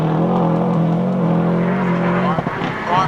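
A rally car worked hard with left-foot braking holds a loud, steady engine note with harmonic overtones, dips briefly near the end, then revs again. A commentator's voice seems to run beneath it.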